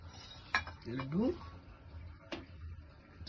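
A child bangs metal cooking pots that were taken out of a container, with a few sharp clanks and clinks in quick succession as an adult talks over them.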